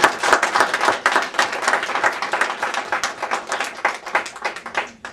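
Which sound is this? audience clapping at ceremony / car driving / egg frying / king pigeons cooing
audience clapping at ceremony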